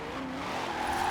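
Corvette C8 in Forza Horizon held on the handbrake: a brief, steady engine roar with a sustained tire squeal rising slightly in pitch, loud and continuous.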